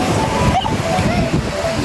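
Large sea waves surge and slosh continuously at a beach, a loud broadband roar mixed with gusty wind buffeting the microphone, with a voice speaking briefly over the noise.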